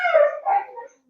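A bullmastiff near her puppies lets out a short, close whimper, a high nasal whine that dips and rises once before fading into silence.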